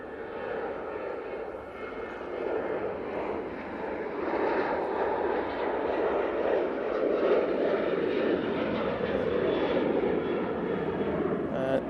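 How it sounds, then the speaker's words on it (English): A Ryanair airliner takes off for Derry at Manchester Airport, its engine roar heard from a distance and swelling louder over the clip while a voice talks over it. "Ryanair off to Derry."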